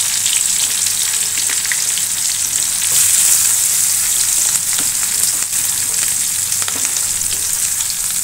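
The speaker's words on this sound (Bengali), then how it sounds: "মাছের ডিম ভাজি করব" Fish roe frying in a pan with salt, chopped onion and green chili, a loud, dense sizzle that crackles steadily throughout with occasional spatters and stirring scrapes, no talking.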